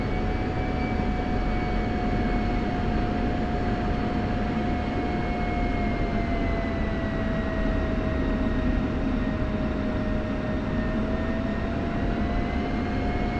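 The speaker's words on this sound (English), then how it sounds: "single ship F-16 departing runway 17 left, departure to the west" A simulated F-16 single-seat jet departs a runway, its engine a loud, steady roar with a sustained whine that drifts slowly in pitch, continuous and close with no talk over it.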